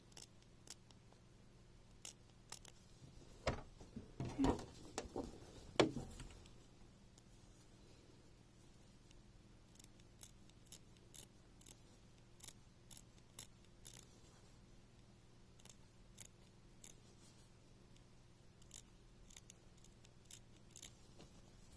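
Short, crisp scissor snips trimming fabric near zigzag stitches repeat at irregular intervals, close and quiet, with a brief rustle of handling partway through and no talking.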